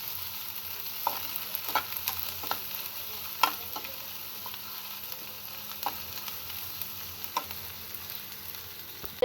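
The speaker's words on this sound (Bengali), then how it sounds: "এখন আমি পেঁয়াজ আর শুকনো মরিচটাকে সরিষার তেল দিয়ে ভালো করে ভেজে নিচ্ছি।" Onions and dried chilies fry in mustard oil, a low steady sizzle broken by repeated scraping and tapping of a spatula stirring the pan, close up with no talk.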